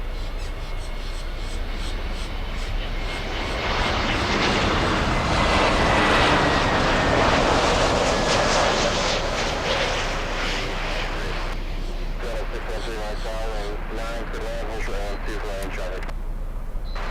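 Loud, close roar of a Delta A321neo jet arriving from Seattle at Miami airport, swelling and then easing into a steady rumble, with voices talking over it.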